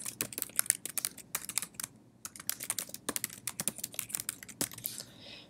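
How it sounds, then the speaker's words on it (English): An email address is typed on a computer keyboard in quick, irregular bursts of close, crisp keystrokes with brief pauses between them. "let's type in my email address in there"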